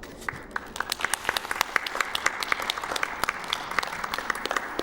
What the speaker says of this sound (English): Shout outs to clapping.